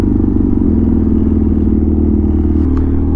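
A custom BMW R100 motorcycle on a road ride, its engine thrumming loud and steady with a pulsing low beat and a slight change in pitch near the end, with no voices over it.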